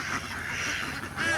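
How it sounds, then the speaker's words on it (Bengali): Dense flock of ducks on a duck farm, a continuous, close chorus of quacking and honking calls filling the scene with no pauses. "দেখুন কত হাঁস,"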